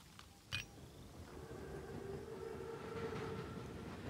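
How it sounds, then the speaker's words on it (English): The armored Panzerzug train in Call of Duty WWII rumbles along steadily at low volume, with a sharp knock near the start and a sustained tonal hum like a horn or brake whine running through the rolling noise. "Train's right on time. Biggest train I've ever seen."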